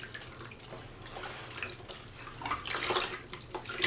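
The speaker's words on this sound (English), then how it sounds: "I'm going to rinse it just a couple more times." Running tap water rinses tea-dyed sock yarn in a sink, a close, steady splashing flow with uneven gurgles that grows louder and fuller toward the end.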